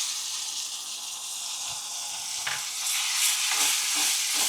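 Onion gravy sizzles steadily in a hot pan as it goes in over ginger-garlic paste for a Punjabi-style corn curry, with spoon scrapes and stirring clatter surging near the end; no voices.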